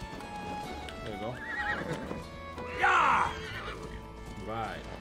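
A horse in the video game Assassin's Creed Valhalla whinnies loudly amid clip-clopping hooves, with a player's voice talking over the game sounds.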